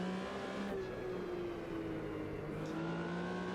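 A 1974 Porsche RSR 3.0 in Automobilista 2 accelerates hard, engine note climbing with a distinct rising gearbox whine, brief gear change dips, loud and close throughout.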